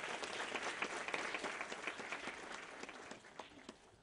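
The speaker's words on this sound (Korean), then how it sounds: "큰 박수로 맞아주시죠." A lecture audience claps to welcome a startup founder onto the stage, a dense, even patter of hands that holds steady and then tapers slightly toward the end, with no voices over it.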